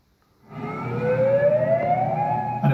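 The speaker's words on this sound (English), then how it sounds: "An evacuation siren on the USA Reddington Shores in Florida." An evacuation siren wails at Redington Shores, Florida, ahead of Hurricane Milton, a steady tone rising slowly in pitch over rumbling background noise, loud and sustained after a quiet start.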